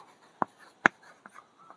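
A pen writing a prime factorization by hand during a Class 8 maths lesson on squares and square roots: a few short, close scratchy strokes, two of them sharp and distinct, with quiet gaps between.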